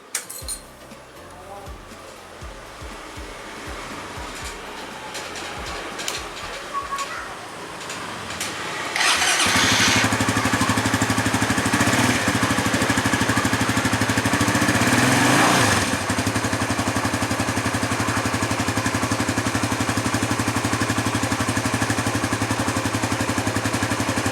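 A motorcycle engine cranks on its electric starter after quiet handling noises, catches about halfway through and settles into a loud, steady, close idle, with a brief rev in the middle and talk early on.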